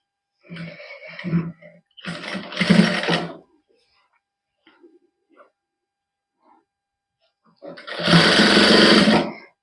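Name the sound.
sewing machine stitching a salwar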